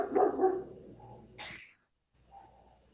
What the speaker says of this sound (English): What's they barking at?